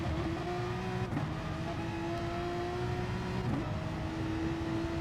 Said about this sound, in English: I love the sound of that car.